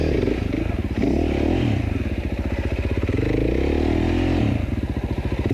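A 2016 Husqvarna FC 450 dirt bike engine running close by on a rocky hill, a steady throbbing putter with slight surges and clattering mechanical noise underneath.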